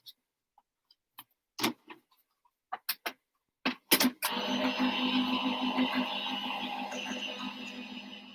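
A card-cutting craft machine starts up after a few scattered clicks and taps, then runs with a steady mechanical whir and rhythmic buzzing hum, close and moderately loud.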